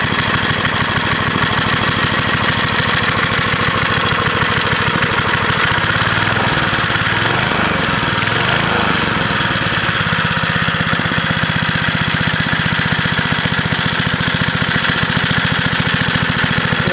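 A Briggs & Stratton small engine on a 1960s Lil Indian minibike idles with a rapid, steady chug and slight knocking throughout, loud and close, with no speech.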